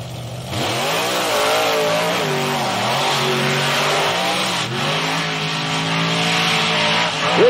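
Monster trucks racing through sand, engines roaring loud and steady with rising and falling revs throughout, a continuous close motor drone.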